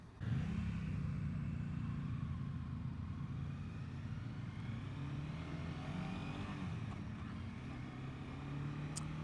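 A 2021 Honda CBR 300R engine drones steadily under throttle with wind rush while being ridden. The engine tone rises slightly in pitch and holds fairly even, with no talking.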